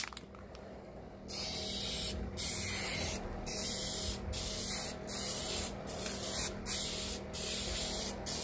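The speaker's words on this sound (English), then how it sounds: "Sometimes you have an issue with the can where it's spraying stupid." An aerosol spray paint can sprays red vinyl paint in steady hissing bursts separated by short pauses, close and continuous through most of the stretch.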